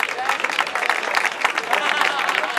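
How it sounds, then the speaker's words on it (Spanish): Spectators clap for runners finishing a mountain uphill race, steady dense applause throughout with crowd murmur and talk mixed in. "Un fuerte aplauso"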